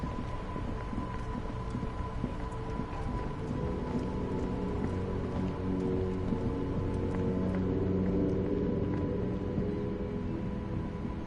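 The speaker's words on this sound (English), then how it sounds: "This rain will not let up anytime soon." Steady rain in the Disco Elysium video game, a dense constant patter and hiss filling the scene evenly throughout, with no voices over it.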